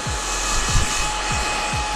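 A hair dryer blows loudly and steadily up close while short hair is dried, its broad whooshing roar continuous for the whole stretch, with faint low thumps as it moves.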